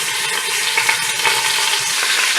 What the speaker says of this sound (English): I'm going to go ahead and add my roast. We are going to sear both sides.